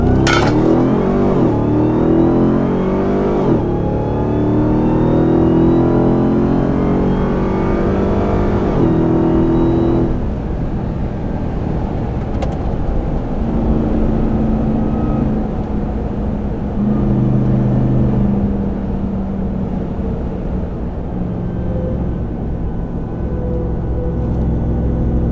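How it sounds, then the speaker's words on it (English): A 2021 Ram 1500 TRX fitted with a loud AWE exhaust launches hard, a close, raw roar that climbs through repeated rising revs and gear changes, then eases into a steady drone as it pulls away. "Let's hear this exhaust fully rip."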